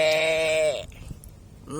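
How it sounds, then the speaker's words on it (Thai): A single goat bleat rings out loud and close, a wavering cry lasting under a second, followed by quiet rustling and the start of another call. "มีแพะนะครับ"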